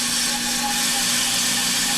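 Off-the-car brake lathe cutting the lip off a brake rotor, a loud, steady metallic whine and hiss with a constant tone, close and continuous.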